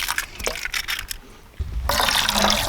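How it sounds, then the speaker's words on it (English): Water pours and splashes in a kitchen in uneven bursts, a brief trickle giving way to a louder, steady rushing stream near the end. "Just water."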